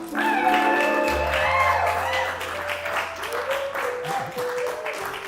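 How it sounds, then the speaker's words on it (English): An audience at a live comedy show applauds as a performer is introduced, with the clapping blending into crowd noise and a few shouts. It sounds moderately loud and stays steady for a few seconds. "give a warm round of applause for Johnny SiZZle."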